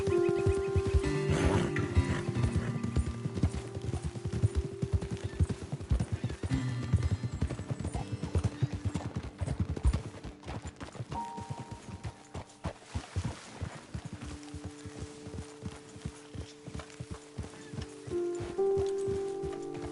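Horses' hooves clopping steadily at a walking pace, with occasional snorts and a whinny over light ambient game music and background sounds.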